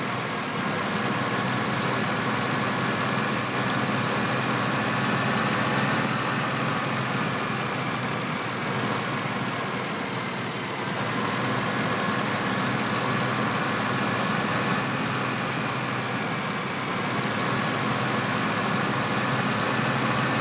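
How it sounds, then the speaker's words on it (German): A vehicle engine idles steadily in a farming game on the Bjornholm map, a constant droning hum that holds level for the whole stretch without any speech. "Müssen wir erstmal unsere Motoren starten."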